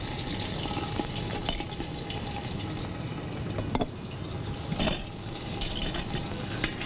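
Spice masala is stirred and roasted in a pot, giving a steady sizzle with occasional scraping strokes of a spoon, close and continuous without talk.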